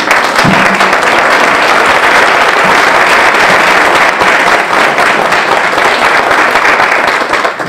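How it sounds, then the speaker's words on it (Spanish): Audience applause welcoming a speaker at a conference in Toluca, dense sustained clapping filling the hall at steady loudness throughout with no speech. "Recibámoslo con un aplauso."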